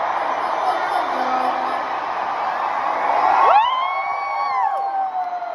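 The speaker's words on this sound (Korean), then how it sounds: "7만여 명이 되는 관객들은 비명과 함성 소리로 콘서트에 열광했는데" A huge stadium crowd of tens of thousands at a concert at Wembley roars continuously, then a wave of high-pitched screams and whoops rises and holds over the dense, distant-sounding cheering.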